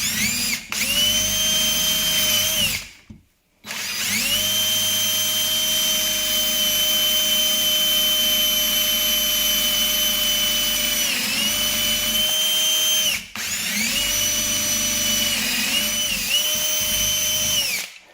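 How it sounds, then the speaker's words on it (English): A power drill bores slightly oversized holes for staircase spindles during a remodel, running loud and steady in two long sustained stretches with a short stop and a brief dip between them. "I'm boring a little bigger because I know, like I said, when the glue expands, it's going to go."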